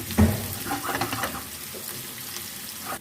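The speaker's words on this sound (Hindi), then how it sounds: "अभी हम प्याज को फ्राई कर लेते हैं।" Onion fries in hot oil in a pan, giving a close, steady sizzle with a sharp knock near the start, and no one speaks.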